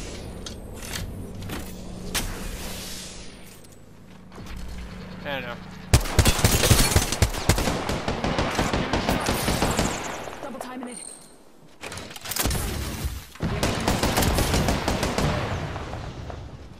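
Rapid gunfire rattles through a video game shooter in long dense bursts that stop and start over several seconds, with brief quieter gaps. Voices talk over the shooting.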